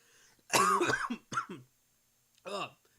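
Several sharp coughs in a quick burst, close and loud, followed by a pause and one more cough.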